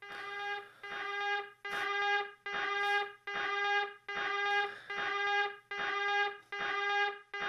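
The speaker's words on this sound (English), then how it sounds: "the fucking alarm blaring the whole time" A radiation alarm blares in the 1998 Tex Murphy: Overseer game, a loud buzzing horn repeating in even pulses about once per second, each rising and cutting off, heard alone with no talk.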